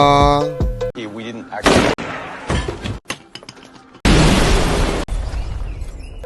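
A rapid montage of loud grenade explosions and gunshots outside a cafe: blasts, bursts and shattering impacts, with sharp cuts between harsh noisy bangs and brief tonal fragments, all close and forceful.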